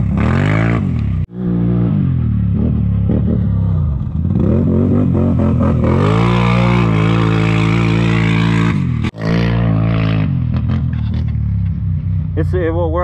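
A Can-Am Renegade 850 ATV on a test ride, its engine loud and close, revving up and down through rising and falling pitch sweeps with brief drops in throttle, under a rider talking over it.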